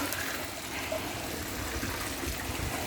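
Soft, steady trickle of water running from a garden bed siphon, faint and continuous, with no voices.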